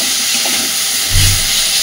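Drumstick flowers frying in oil in a wok make a loud, continuous broadband hiss that stays steady from start to end, with a brief low thump partway through and no voices.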